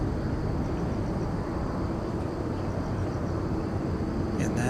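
An Airbus A320 airliner of Lao Airlines at Incheon airport gives off a steady, distant jet roar beneath wind and broadband airport noise, continuous and moderately loud.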